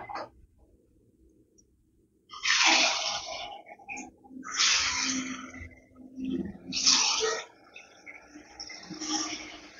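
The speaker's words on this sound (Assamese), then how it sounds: "এতিয়া মই এইখিনি তেলত ভাজি যাম।" Rice flour and banana pitha batter dropped into hot oil over low gas, bursts of loud hissing sizzle that rise and fade in several waves after a quiet start, close by.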